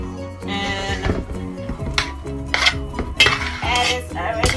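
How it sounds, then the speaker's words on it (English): A spoon clinks and scrapes against a bowl while stirring Liberian potato salad made of mashed potatoes, luncheon meat, seasoned salt and black pepper. The clatter comes in repeated close bursts over a steady tonal background. "I'm gonna stir and then sit down for a little bit."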